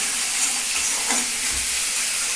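Fish roe filling sizzling and frying in hot oil in a pan, a continuous bright hiss with soft scraping as it is stirred, close up and without talk.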